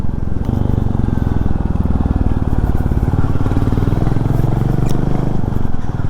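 A Royal Enfield Classic 350 engine thumps loud and close as the throttle opens, a steady rapid pulsing beat holding for several seconds with no one speaking.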